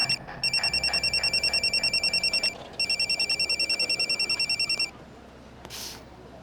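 A telephone rings in two long bursts of rapid electronic trilling, separated by a short pause, fairly close and clear.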